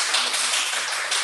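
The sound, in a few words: audience clapping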